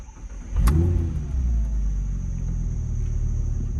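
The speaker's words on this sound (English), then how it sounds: "We'll go ahead and put our foot on the brake and turn the key to start the car." A 2010 Audi R8 V10 supercar on its stock exhaust fires up: a sharp starter catch, then a loud flaring rev that settles into a deep, steady idle rumble, close and alone.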